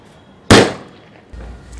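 A firecracker packed with red gulal powder goes off in one sharp, loud blast, close by, then a quieter hissing trail fades after it during a Holi and Diwali cracker test.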